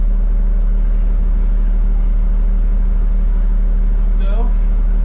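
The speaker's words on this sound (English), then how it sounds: "This bus is very loud. Very loud indeed." Loud, steady engine drone heard from inside a Grand River Transit city bus, a deep constant rumble filling the cabin, with a brief faint voice near the end.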